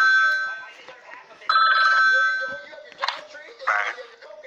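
In the Talking Ben video game, a telephone rings in short, bright, repeated bursts, mixed with a character's voice speaking.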